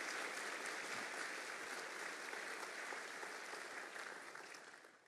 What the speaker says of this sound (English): can I ask everybody to just give a round of applause to them